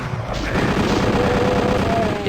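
Gunfire in the Doom mod Dean of Doom hammers in rapid, loud repeated blasts, dense and close throughout the short burst.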